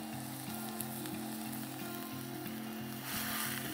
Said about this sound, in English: You can hear it talking and sizzling.